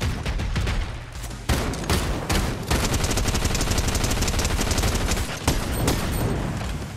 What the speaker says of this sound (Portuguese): É gente atirando, hein?